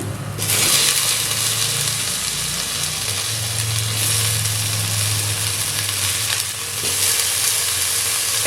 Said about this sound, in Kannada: ಫ್ರೈ ಮಾಡ್ಕೊಳ್ಳೋಣ. ನಾವು ಸಣ್ಣದಾಗಿ ಹಚ್ಕೊಂಡಿರೋ ಬದನೆಕಾಯಿ ಹಾಕೊಳ್ಳೋಣ